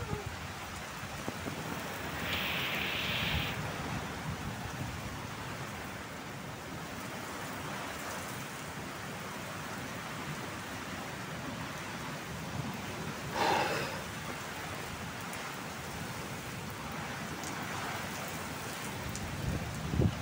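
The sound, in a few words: rain and thunder of a summer morning storm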